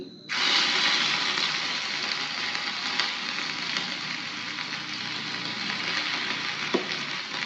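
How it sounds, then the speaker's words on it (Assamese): Cumin seeds, ginger and garlic dropped into hot oil burst into a loud, steady sizzle that starts abruptly and holds a dense crackling hiss throughout, close and alone. "আমি এতিয়া গৰম তেলখিনিত অকণমান কেইটামান জিৰা দি দিম।"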